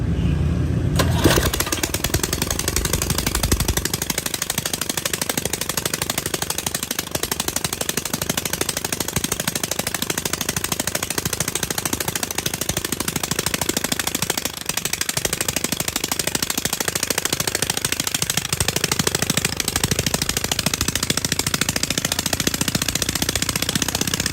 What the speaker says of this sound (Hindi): जैसा कि हमने आपको अपना इंजन स्टार्ट करके दिखाया है